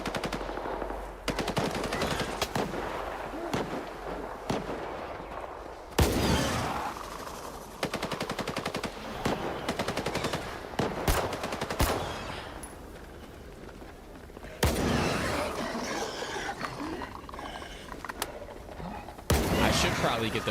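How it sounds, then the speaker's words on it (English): Rapid bursts of automatic gunfire and scattered single shots from a firefight between bandits and snorks in the S.T.A.L.K.E.R. 2 video game, loud and continuous across the scene with several sharp, heavy volleys. "There's always bandits and snorks fighting here."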